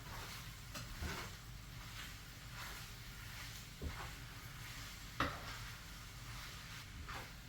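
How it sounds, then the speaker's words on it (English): A small amount of bolognese sauce sautés with pasta in a pan, a low steady sizzle with occasional soft clinks and scrapes of a utensil against the pan, fairly quiet and close. "And then I'm going to saute that in there."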